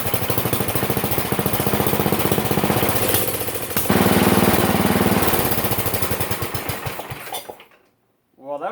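A 1969 Sears Suburban 12 lawn tractor engine runs at high idle with a loud, rapid, steady chugging that briefly swells, then cuts out and falls silent before a faint restart.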